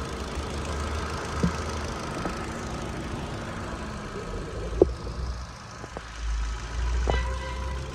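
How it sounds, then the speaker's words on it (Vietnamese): A 2015 Ford EcoSport with a 1.5 engine idles steadily and smoothly, a low, even hum with a few faint clicks and knocks over the top; no one speaks. "Máy nổ cực kỳ là êm."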